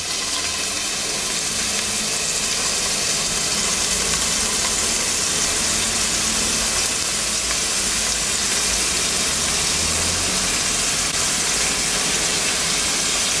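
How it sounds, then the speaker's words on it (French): Chopped onion sizzling in preheated oil in a clean sauté pan for Mauritian curry, a loud, steady broadband crackle and hiss that holds evenly throughout with no voices. "faire préchauffer de l'huile dans la sauteuse bien nettoyée et faire revenir l'oignon"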